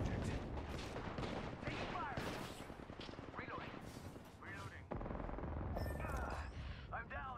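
Gunfire from the video game Apex Legends, sustained bursts and shots layered over game effects and ongoing voices, fairly loud throughout.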